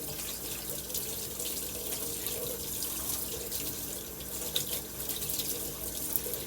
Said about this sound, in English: So I'm going to rinse this off right away.